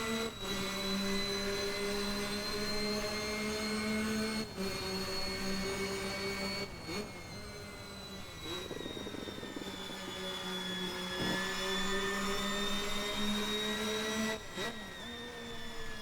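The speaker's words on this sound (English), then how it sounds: "And as the revs increase, that engine starts to spool up." A McLaren MP4/4 turbo Formula 1 engine in Assetto Corsa hums and whines steadily, its pitch rising and falling with several sharp gear-change dips, loud and continuous throughout with no voices.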